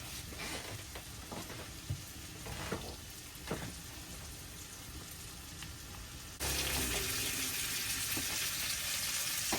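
Marinated, seasoned food frying on a small boat galley stove, a steady crackling sizzle with a few sharper pops, turning louder and brighter partway through.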